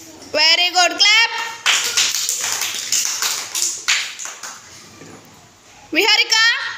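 Kids at a classroom colour-picking activity break into a few seconds of rapid, fairly loud group clapping, framed by an adult speaking before and after.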